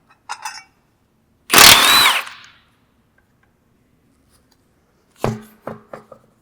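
A power tool working the wheel of a car with aftermarket wheels and two-piece rotors: one loud sustained burst of about a second, with short sharp clanks before and after in a quiet garage.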